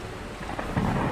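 Thunder rumbles through a storm with steady rain, the low roll swelling louder toward the end of the brief stretch, with no voices over it.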